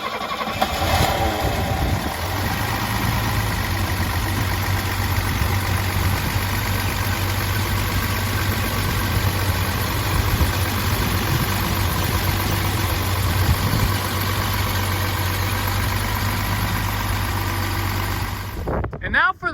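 An old 1970 to 1995 era Mercedes-Benz engine cranks and settles into a steady, loud idle with a firm low drone, ending with a sudden cutoff.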